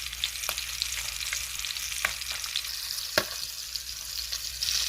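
Salmon pieces searing in a hot pan for a salad, a constant close sizzle with occasional sharp ticks and pops, no one speaking.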